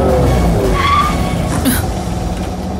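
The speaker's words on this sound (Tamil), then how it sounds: "வண்டி நிறுத்துமா?" A car brakes to a halt on a street in a no-parking area, its tires squealing in a short screech over steady road and engine noise.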